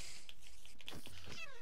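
A Minecraft cat lets out a short meow after being hit, close and clear over steady background game noise.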